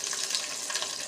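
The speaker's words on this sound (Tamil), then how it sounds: "இதெல்லாம் வந்து நல்லா பொன்னிறமாக வதங்கணுங்க, அதுதான் முக்கியம்." Green chillies sizzle and fry in hot oil in a pan while coriander chutney is being made. The crackle is close, steady and continuous, with no voices.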